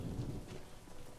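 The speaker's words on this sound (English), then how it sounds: "There's a storm happening." A video-game thunderstorm brings soft, continuous rainfall with a low rumble of thunder underneath, faint and distant, with no voices.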